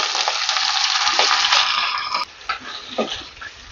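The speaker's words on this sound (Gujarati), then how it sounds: "મેથીના પાન આપણે કડાઈમાં ઉમેરી દઈશું" Fenugreek leaves dropped into a hot kadai after garlic has sautéed give a steady close sizzle that thins out toward the end, with a few light scraping stirs.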